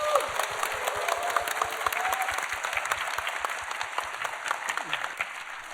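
A church congregation gives warm, even applause to welcome a pastor's sermon. The clapping is moderately loud and sustained, with a voice briefly audible at the start.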